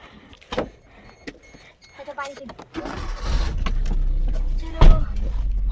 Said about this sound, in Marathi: गाईज आता आम्ही बसतोय गाडी.